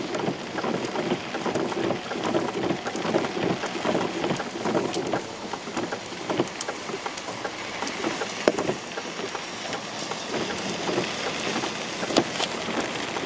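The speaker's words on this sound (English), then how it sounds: "A lot of rain quickly." Heavy storm rain pours steadily in Hueytown, Alabama, a dense continuous hiss with scattered louder drips and splashes close by.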